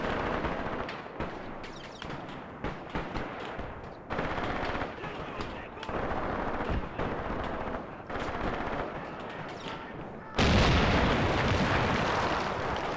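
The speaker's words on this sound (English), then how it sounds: "Something just detonated." A battlefield in the Graviteam Tactics war game at night: dense machine-gun and artillery fire rumbles in bursts, then a sudden loud detonation near the end is followed by a sustained roar.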